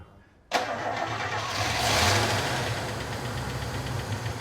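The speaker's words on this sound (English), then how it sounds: "What a sound little engine that is." An MG MGF sports car engine cranks and catches after a moment of quiet, then settles into a steady, fairly loud idle that swells slightly before evening out, with no one speaking.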